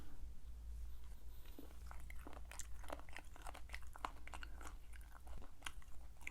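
Chicken feet lightly coated in injeolmi powder being eaten, with soft, close, quiet crunching bites and chewing repeated in an irregular rhythm.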